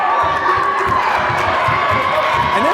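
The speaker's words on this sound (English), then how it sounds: "And this crowd is getting into it." A high school boys varsity basketball crowd erupts after a technical foul call, a loud sustained roar of shouting and cheering filling the gym with no pause.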